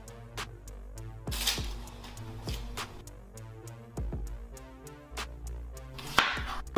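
A kitchen knife dices ingredients for lasagna on a cutting board, giving several sharp, irregular chops separated by short pauses, close and moderately loud.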